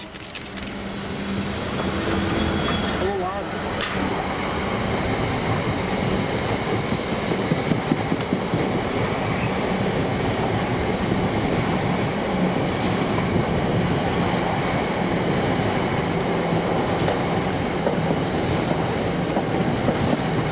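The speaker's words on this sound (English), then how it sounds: "diverted Moss End to Carlisle cement train with" A heavy cement freight train hauled by locomotive 66760 rumbles past steadily and close, with continuous wheel noise, clattering wagons and occasional squeals along the rails.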